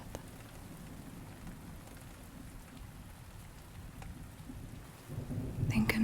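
Steady rain falls on a dark night, a dense low rumble of rolling thunder running beneath it, swelling louder near the end with a close crackling burst; no one speaks.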